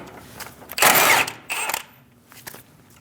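Power tool with a 22mm socket spinning off an outer tie rod nut on a 2001-2006 Chevrolet Silverado 2500 HD: one loud whirring burst, then a shorter second burst, with quiet pauses around them.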